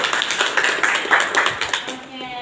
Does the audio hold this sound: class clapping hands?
yes